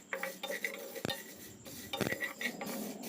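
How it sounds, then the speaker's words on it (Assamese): A spatula scrapes and clinks against a pan on a medium gas flame as black mustard seeds and dried chillies fry for lemon pickle, with sharp metallic knocks near the start and middle and a soft sizzle underneath. "আৰু এইখিনি মই এতিয়া হেতা পাতেৰে এনেদৰে লৰাই লৰাই অলপ সময় ভাজিম"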